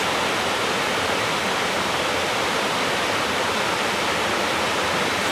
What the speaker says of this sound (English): With a beautiful deep pool. And then sweeps away down over the rapids.